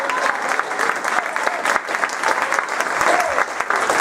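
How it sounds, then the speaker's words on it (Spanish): A church congregation applauds during a united worship service, a thick, continuous round of clapping from many people with scattered voices and cheers under it. "Denle un aplauso de gloria a quien merece gloria."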